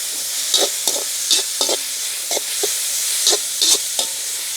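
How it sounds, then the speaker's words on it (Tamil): Sliced onions and green chillies sizzle steadily in hot oil, with soft spatula scrapes and stirs landing every half second or so, close and fairly loud, no voices. "இந்த வெங்காயம் பச்சை மிளகாய் எல்லாம் கொஞ்சம் வதங்கட்டுக்கும்"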